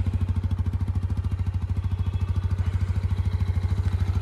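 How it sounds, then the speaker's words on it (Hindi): A TVS Apache RTR 160 2V motorcycle idles close by, its exhaust beating out a steady, rapid, even thump with no other sounds around it. "जब आपकी बाइक आइडल कंडीशन में खड़ी है मतलब आपने सिर्फ इसको स्टार्ट कर रखा है तब इसमें जो आवाज़ आपको सुनने को मिलेगी वो कुछ इस तरीके से आएगी"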